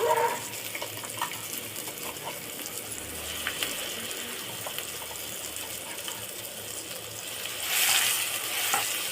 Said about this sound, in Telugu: ఈ వెల్లుల్లి కారాన్ని పచ్చి వాసన పోయేంత వరకు బాగా వేగనిద్దామండి.